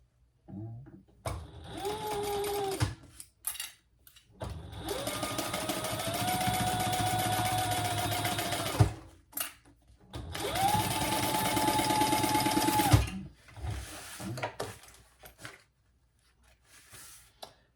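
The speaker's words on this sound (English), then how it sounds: "And then we will turn and top stitch those on the side accent pieces." A sewing machine top stitches the side accent pieces of a fabric wristlet in two long, steady whirring runs with short stops, a brief burst at the start and faint handling noises between runs.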